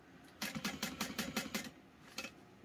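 A sewing machine stitches a label onto fabric in a short run of quick, rhythmic mechanical thumps, close by, then stops, leaving a few soft clicks.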